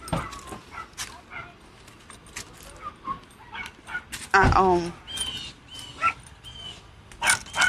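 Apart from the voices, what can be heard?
dogs barking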